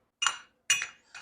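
Sharp metallic clinks of a mallet striking a 9/16 wrench on the shifter bracket of a red 1981 Harley FLT, two distinct hits with ringing decay and a third starting, close and alone.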